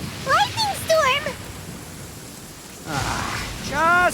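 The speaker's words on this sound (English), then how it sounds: "Lightning storm!" Rain hiss with a low rumble of thunder during a lightning storm in the Genshin Impact video game, heard under bursts of a character's voice talking at the start and end.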